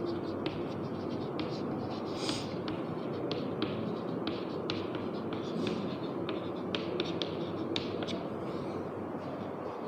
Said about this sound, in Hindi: अब इसके बारे में लिखते हैं अपन